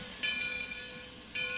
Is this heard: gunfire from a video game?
no